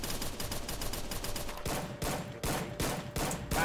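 Rapid gunfire bursts in the Free Fire battle game, sharp repeated shots in quick clusters, some distant and some closer, loud and continuous with no voices.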